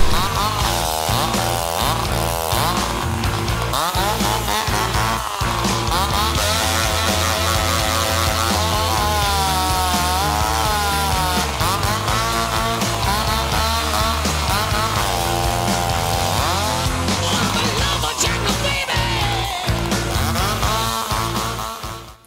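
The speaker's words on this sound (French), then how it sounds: "C'est une tronçonneuse là, tu sais, hein?" A chainsaw played as an instrument in a song snarls and revs continuously through loud dense music, its buzzing tone rising and falling for over twenty seconds.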